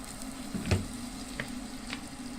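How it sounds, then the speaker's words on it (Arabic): Butter melting and sizzling in a hot pot on a gas stove, a soft steady crackle with a few brief stirring clinks, close by and fairly quiet. "وادي معايا الحلة سخنت على البوتاجاز. نحط حتة زبدة"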